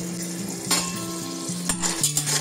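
Peanuts and cashews frying in ghee and oil in a pressure cooker on a stove, a close sizzle with a steady low hum and a couple of brief stirring clinks.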